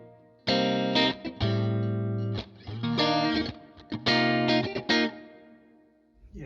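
An electric guitar through a Line 6 Helix LT with a dynamic plate reverb set on an AC30-style patch plays loud, ringing chords and notes in short bursts, with the tails decaying between phrases.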